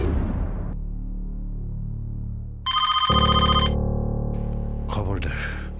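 A telephone rings in a household drama, with loud electronic ring bursts and a sustained tone over a low background score, alone without speech.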